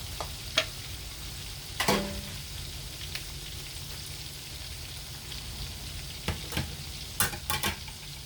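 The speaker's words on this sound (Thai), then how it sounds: "หมูเนี่ย หมักไว้สัก 15 นาทีก่อนนะคะ ให้มันเข้าเครื่องก่อนแล้วค่อยเอามาทอด" Battered pork that has been marinated is frying in hot oil with a continuous dense crackle and sizzle. Now and then there is a louder pop or clatter from the pan. No one speaks.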